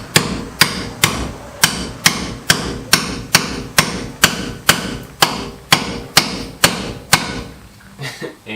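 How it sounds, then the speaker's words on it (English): Steady, evenly spaced metal hammer blows on a ball joint separator, working to pop the front spindle off a Fox Body Mustang during a 5-lug conversion. About fourteen sharp, close, loud strikes with no talk. "So we shall see if we can get this spindle to pop off now with the ball joint separator."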